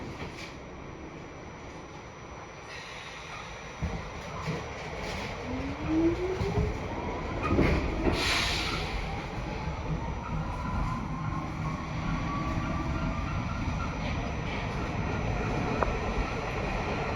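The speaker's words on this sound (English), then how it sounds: "this Q train is making stops between 96th Street and Lexington and 63rd" An R46 Q shuttle train on the New York subway rides between 96th Street and Lexington Avenue, with a steady loud rumble of rolling wheels, rising wheel squeals and a brief clatter near the middle, and no one speaking.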